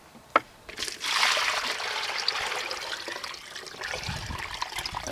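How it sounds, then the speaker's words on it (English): Clean water poured into a container while rinsing brass cartridge cases for reloading, a close, steady splashing trickle that starts after a sharp knock and continues to the end. "Pour me up some clean water."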